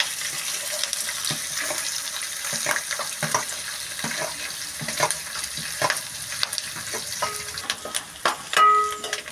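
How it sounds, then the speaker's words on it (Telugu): Onion pieces crackle and sizzle in hot oil while a spoon scrapes and stirs, with a few sharper clinks near the end. "ఉల్లిపాయ ముక్కలు వేసాక అలాగా ఫ్రై అయ్యాక"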